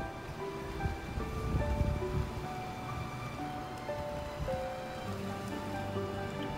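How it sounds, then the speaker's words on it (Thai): Strong daytime wind rushes steadily outdoors in Las Vegas, a broad continuous roar with stronger gusts and faint thin tones above it, with no talk. "วันนี้ลมค่อนข้างแรง"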